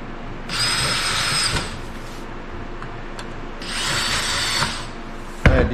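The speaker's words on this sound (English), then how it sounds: "Then I ream my pilot hole." Two bursts of high-pitched power tool whine as a pilot hole is reamed while building a Super Cub aircraft, each lasting about a second, with a sharp clack at the end.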